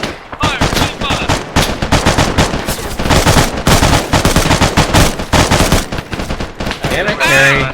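Loud, sustained gunfire from a military video game: dense automatic bursts and single shots crackle almost without pause, with brief voices in the mix.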